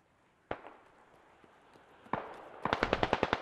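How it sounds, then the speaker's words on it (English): Grenade explosion in the video game Squad: one sharp blast is followed by a decaying rumble, then another burst, and then a rapid, rhythmic string of close gunshots. "That's their nade."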